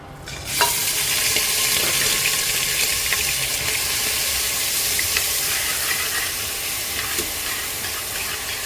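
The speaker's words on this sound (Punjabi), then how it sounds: "ਜੀਰਾ ਤੜਕੇ ਕੇ ਹੁਣ ਅਸੀਂ ਪਿਆਜ਼ ਪਾ ਦੇਵਾਂਗੇ" Chopped onions hit hot oil with cumin tempered in a cooker, bursting into a loud sizzle that settles into a steady, even frying hiss with small crackles, no voices.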